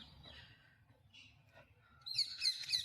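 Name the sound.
birds chirping at Delhi's Old Fort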